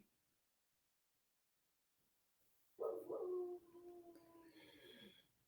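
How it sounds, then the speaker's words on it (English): Wolves howling outdoors in Connecticut: after near-silence, a loud close howl rises suddenly and sustains, then tapers into fainter overlapping higher howls toward the end, with no talking. "we get some wolves out here in Connecticut"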